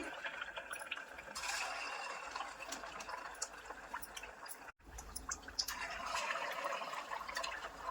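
Flattened-rice (atukula) vadas drop one by one into hot oil and sizzle steadily up close, a continuous crackling hiss with a brief dip partway through.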